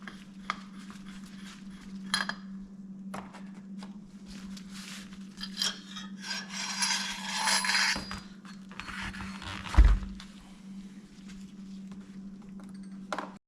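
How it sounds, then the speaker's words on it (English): Metallic clinks and scrapes come from a Honda Goldwing GL1500 front fork as the spring and cap are pulled out, close and intermittent over a steady low hum. "we'll remove the spring and the cap that were just temporarily in there"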